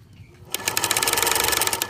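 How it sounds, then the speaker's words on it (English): An old sewing machine stitching a knitted steek starts up after a brief quiet, then runs in a fast, steady mechanical chatter, close and loud. "The sewing machine has a lovely old-timey sound."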